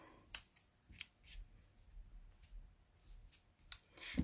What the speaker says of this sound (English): I'm going to pull it down and trim it off.